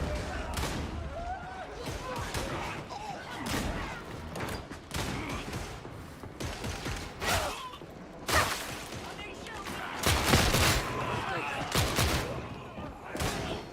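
Weapon fire from Darktide, a Warhammer 40,000 co-op shooter, rattles in dense repeated bursts and volleys across the whole stretch, with louder cracks standing out near the middle and end amid a busy game mix.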